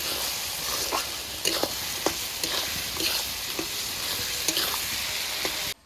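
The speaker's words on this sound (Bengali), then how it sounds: "এরপরে নেড়ে চেড়ে ভালো করে কষিয়ে নেব" Ground spices with salt and turmeric frying hard in a pan, with a loud, continuous sizzle and repeated sharp spatula scrapes at a quick, uneven pace.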